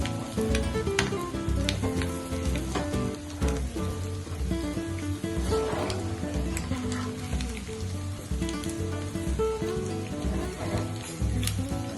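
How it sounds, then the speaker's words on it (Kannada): Eggs frying in a pan as they are turned, a dense crackling sizzle with spitting pops alongside, steady and close throughout while background music plays. "ಇನ್ನೊಂದ್ ಸೈಡ್ ಫ್ರೈ ಮಾಡ್ಕೊಬೇಕಲ್ಲ, ಸೊ ಇದೆಲ್ಲ ನಾನು ಟ್ವಿಸ್ಟ್ ಮಾಡ್ತಾ ಇದ್ದೀನಿ"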